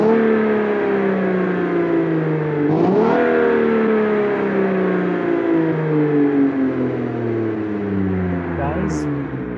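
Roughly 1,000-horsepower car engine held at a loud, sustained high revs. The harmonic drone slowly falls in pitch with a brief rev blip partway through, close and continuous throughout.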